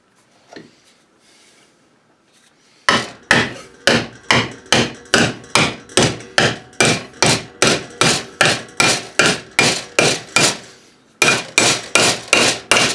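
A copper-faced hammer strikes a metal bicycle wall-storage bracket clamped in a bench vise. After a quiet start come about twenty loud, evenly spaced, ringing blows, a short pause, then several more strikes.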